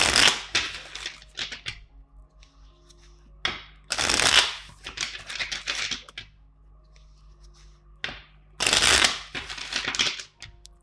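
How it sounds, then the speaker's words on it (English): Three bursts of tarot cards being shuffled, each a crisp riffling flurry, separated by quieter stretches of soft handling and rustling. "One last shuffle."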